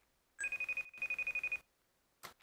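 A FaceTime video call rings out on a phone with two bursts of rapid, repeated electronic ringtone pulses separated by a brief gap, moderately close and without speech.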